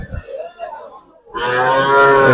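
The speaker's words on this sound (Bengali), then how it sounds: "লাল একটা গরু" A red cow at the Sarkar Hat cattle market lets out a single loud, drawn-out moo close by. Faint murmurs and a short quiet gap come just before it.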